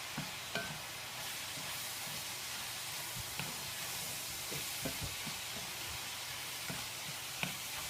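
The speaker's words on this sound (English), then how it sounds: "I'm going to just go ahead and add in my chopped mushrooms. And mix those in real well." Chopped mushrooms frying in a pan for a pumpkin sausage soup, with a soft steady sizzle and scattered knocks and scrapes of a spoon stirring, fairly quiet and close, no voices.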